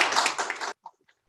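A short burst of clapping plays for graduating master's students at an online university commencement. It lasts under a second, then cuts off abruptly and leaves a few faint clicks.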